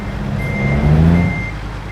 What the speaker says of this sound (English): taking on American Truck Sim with a wheel unlocks the absolute hardest undertaking in sim racing: reverse bay parking an articulated lorry.